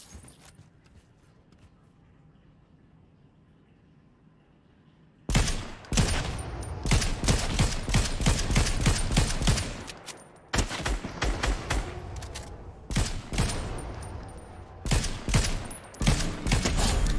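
Fortnite video game gunfire with an SMG: after a quiet stretch, rapid bursts of close, loud shots erupt in clustered volleys with brief gaps between them, filling the rest of the clip.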